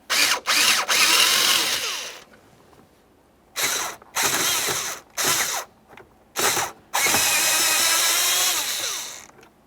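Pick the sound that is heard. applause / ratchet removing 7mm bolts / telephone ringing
ratchet removing 7mm bolts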